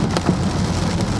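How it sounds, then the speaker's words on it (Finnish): Rain drums steadily on a Mercedes during a thunderstorm drive in Helsinki, a dense even patter of drops on the car body heard from inside, with no talking. "Vettähän täällä näyttäis tulevan kyllä."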